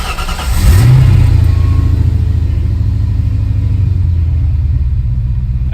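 A Ford Mustang GT with a newly fitted exhaust cranks and fires up nearby, settling into a loud, steady, deep rumbling idle.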